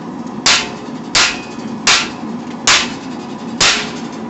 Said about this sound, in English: I'm using a 4-pound hammer